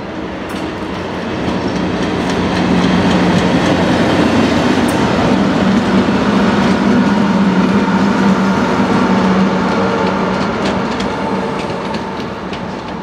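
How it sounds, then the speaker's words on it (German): A heavy freight train rumbles past at close range in Recklinghausen, Germany, a steady loud roar with faint wheel clatter that swells and then eases slightly as it goes by. "Als Bonus zu den Opel-Lokomotiven gab es in Recklinghausen noch diesen schweren Güterzug zu bewundern"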